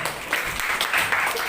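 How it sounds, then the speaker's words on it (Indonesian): Brief burst of clapping for students in a classroom lesson, a short dense patter of hands at moderate loudness. "Dengan tepuk tangan untuk Mbak Aisyah dan Mas Ilo."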